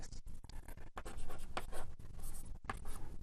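Chalk or marker scratches across a board during a physics lecture, a steady run of close, scraping strokes broken by a few brief pauses, with no talking.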